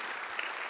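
A short, dense burst of applause from a studio audience, steady clapping throughout with no voices over it.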